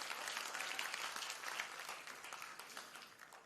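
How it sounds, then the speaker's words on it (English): Crowd applause for a choir at a 2025 university certificate ceremony, a fairly faint, even patter of many clapping hands that thins slightly toward the end. "Let's give them a round of applause, ladies and gentlemen."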